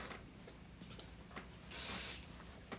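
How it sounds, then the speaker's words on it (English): Nail prep spray fired onto a fingernail during acrylic tip application: one close, loud aerosol hiss lasting about half a second, standing out from a quiet room background. "spray the nail"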